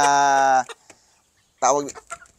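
Jutako gamefowl, a large stag and pullet, clucking close by: a loud harmonic call of about half a second, a pause with a few faint ticks, then a second shorter call.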